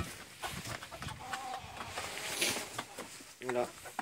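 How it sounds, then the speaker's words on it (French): A Brahma rooster and hen cluck and call in a farmyard, with soft intermittent calls and a louder burst near the end, under ongoing conversation. "Ça, c'est un coq Brahma perdri herminé."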